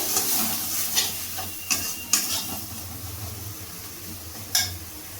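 Cumin, coriander and garam masala spice paste sautéing in a pan for egg curry, with a steady low sizzle and several sharp scraping strokes of a spatula spaced through it, close and unaccompanied by talk.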